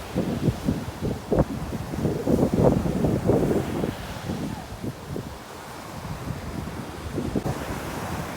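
Rough, storm-driven sea surges and crashes against the Jaffna coast during fishing, with heavy wind buffeting the microphone in a continuous roar and irregular louder wave bursts, and voices faintly mixed in.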